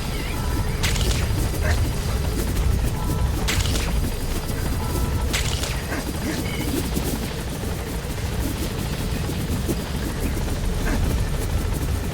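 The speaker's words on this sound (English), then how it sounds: "Support helicopter has arrived." A support helicopter's rotor thumps steadily and loudly throughout in the video game Metal Gear Solid V: The Phantom Pain, a continuous heavy chopping drone with occasional sharper bursts over it.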